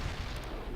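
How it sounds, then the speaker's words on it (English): Artillery fire in the real-time strategy game World in Conflict, a low, muffled rumbling boom at moderate distance, brief and fairly quiet. "Artillery firing."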